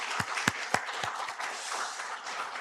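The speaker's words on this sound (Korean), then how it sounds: "그동안에 열심히 애쓰고 수고한 우리 믿음의 일꾼들을 위해서 한번 박수해 주시기를 바랍니다" A congregation applauding in a church service, with a few distinct near claps at first, then softer scattered clapping spread across the room, no talking.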